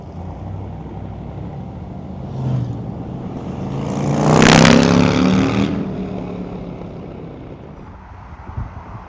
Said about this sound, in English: Nice pickup, I want to tell you. Really nice. Runs good. Listen to that sound.